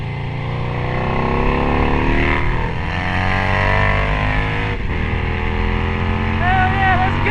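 A Harley-Davidson Screamin' Eagle factory Road Glide bagger motorcycle runs at speed, its engine droning loud and steady with shifting pitch under wind rush.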